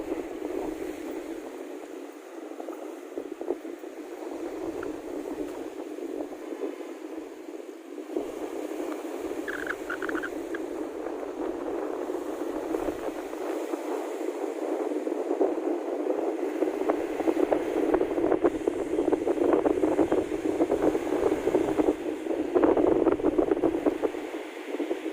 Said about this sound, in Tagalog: Medyo tumila na yung hangin at ulan kasi mas malakas kanina.